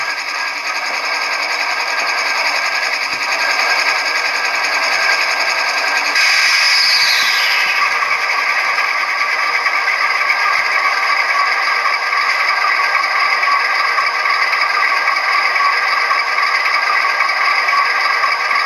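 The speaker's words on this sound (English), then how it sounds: "That's the air compressor turning on." An ESU LokSound decoder in an HO scale Intermountain ES44AC model locomotive plays its air compressor sound, a steady loud mechanical chugging rattle that continues unbroken throughout.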